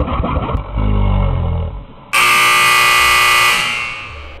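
A timer alarm erupts midway into a loud, continuous electronic buzz that holds for over a second before tapering, following a rumbling engine-like noise at the start.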